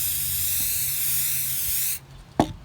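Ultra Cover Satin Clear sprays from an aerosol can in a steady, close hiss lasting about two seconds, then cuts off, followed by a brief clatter of the can.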